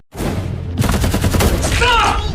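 Film shootout gunfire: a dense fusillade of sharp repeated gunshots in quick bursts, loud and close, with a burst of sound effects and cries layered over the final second.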